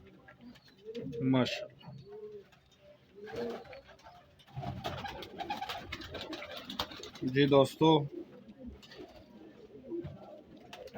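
Pigeons coo in a loft in several rounded bursts, close and fairly clear, while someone talks over and between the calls.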